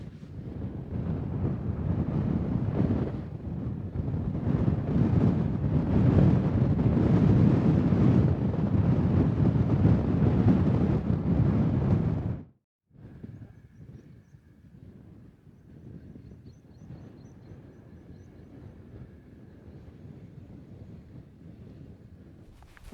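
Cold wind roars across a mountain summit in the Yorkshire Dales, buffeting the microphone loudly and steadily for about twelve seconds. It cuts out abruptly, then gives way to a much quieter, gusty background.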